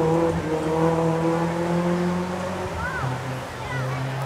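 A Subaru rally car in the open lights class drives through Stage 6 of the 2012 STPR Rally, with a sustained engine drone that shifts in pitch as it brakes and accelerates, under continuous commentary.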